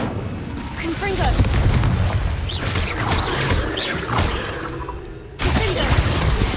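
Fiery Confringo and Incendio spell blasts in the game Hogwarts Legacy, loud booming and crackling bursts layered densely over one another with a short lull before another blast surges back in, a voice speaking among them.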